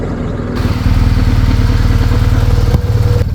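A motorcycle engine in Côte d'Ivoire runs loud and close, with a steady mid-pitched chugging that starts abruptly after a short lead-in and continues throughout without speech.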